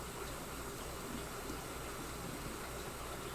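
Water flows steadily through a cichlid aquarium sump, a constant close gushing and trickling wash that holds at an even level throughout without talk.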